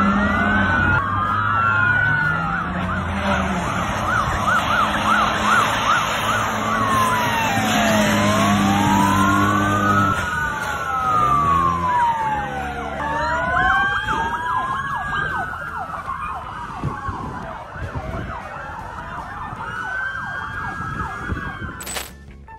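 Several police car sirens wail on a city street, their sweeping tones overlapping and rising and falling continuously, loud and close amid traffic noise.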